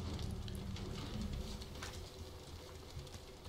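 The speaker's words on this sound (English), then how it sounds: "it's still fucking raining" Rain falling in the H1Z1 video game, a soft continuous patter with scattered drops over a low rumble, faint and unbroken with no talk.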